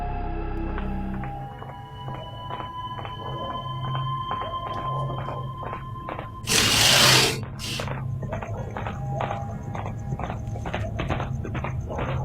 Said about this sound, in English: Suddenly, the sound of horse hooves begins to echo through the night.